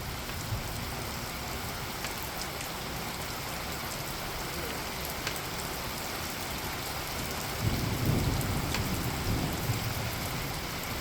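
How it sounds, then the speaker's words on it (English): Heavy rain from a powerful supercell thunderstorm in Richmond Heights pours in a dense, constant hiss, and a low rumble of thunder swells near the end, with no talking. "This is a powered up storm."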